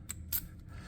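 A Paclock 90a-Pro padlock snaps shut, giving two quick, close metallic clicks in rapid succession, crisp and fairly quiet against a low background hum.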